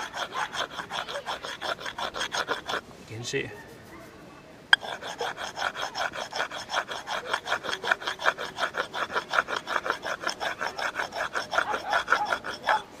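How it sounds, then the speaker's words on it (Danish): Rhythmic rasping strokes of a whetstone grinding the surface of a lamp smooth, close and steady, with a brief pause and a short spoken word partway through. "den kan vi få frem ved at bruge slibesten til at slibe overfladen med"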